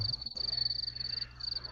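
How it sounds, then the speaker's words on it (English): A cricket chirping sound effect plays as a rapid, pulsing high trill, steady and fairly quiet across a short stretch, with a faint low hum beneath. "Oh, who did the crickets?"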